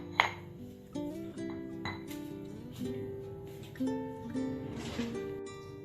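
A salad of sliced tomatoes and dressing is tossed in a glass bowl, and the utensils clink and ring repeatedly against the glass in an uneven rhythm, close and clear.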